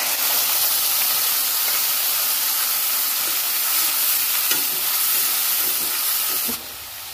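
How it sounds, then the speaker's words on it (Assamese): Onions and spices frying in oil in a kadai give a steady, loud, close sizzle with faint stirring clicks throughout, easing to a softer hiss near the end, with no talk. "তো পিঁয়াজখিনি ভাজি হৈ গৈছে আৰু এতিয়া মছলাখিনি"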